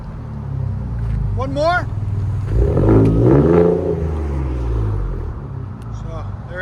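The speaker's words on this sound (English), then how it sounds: "That's what a muffler delete sounds like." Exhaust of a 2019 Ford Raptor with a 3.5L twin-turbo V6 and a dual-in, dual-out muffler delete, a deep steady rumble that swells into a loud rev near the middle, with someone talking over it.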